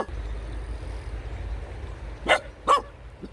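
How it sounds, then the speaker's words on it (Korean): Two sharp barks from a dog on a garden walk among flowering plants, fairly close, spaced about half a second apart over a low steady background rumble. "짖지마"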